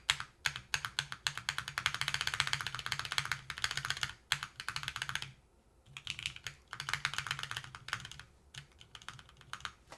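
Fast, continuous typing on a custom-built OGR2 mechanical keyboard, close and clear, with dense clacking keystrokes and a short pause partway through, no voices.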